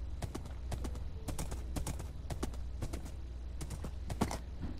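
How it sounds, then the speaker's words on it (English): Rapid Minecraft horse hoofbeats clatter in quick, uneven clusters of sharp clip-clop hits, close and fairly crisp, with no talking over them. "Fastest horse on the land."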